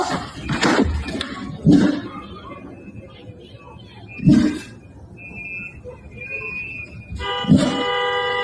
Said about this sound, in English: Oh, more honking.